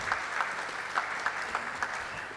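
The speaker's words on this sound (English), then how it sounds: "just a round of applause for Ms. Aurelia." Steady applause from a lecture audience, a continuous patter of clapping with a few sharper individual claps standing out, moderately loud throughout.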